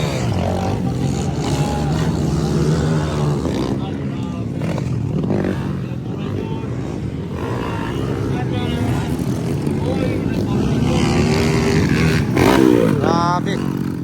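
Underbone motorcycle engine revving hard during a demo run at an open-class final heat, a loud sustained roar rising and falling with a sharp high rev near the end, crowd chatter underneath.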